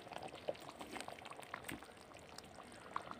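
Fried eggs being stirred into a bubbling egg curry gravy in a pan, with soft wet sizzling and simmering, light stirring clinks and gentle splashes close by.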